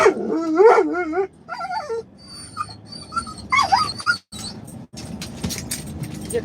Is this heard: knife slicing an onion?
no